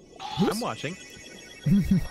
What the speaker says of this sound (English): Sorry, ladies and gentlemen, that was my phone going off.